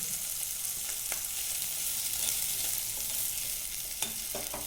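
Grated coconut fries in a pan for a gravy, a continuous soft hiss of sizzling with occasional scraping stirs near the end, no talking.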